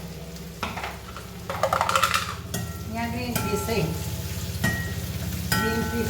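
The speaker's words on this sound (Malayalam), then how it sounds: "നമുക്കതിലേക്ക് കുറച്ച് ഉള്ളി മൂപ്പിക്കാം കേട്ടോ" Sliced shallots and curry leaves fry in hot coconut oil, with crackling sizzle that flares loudly early on and then settles into a steady fry, while a person talks briefly over it.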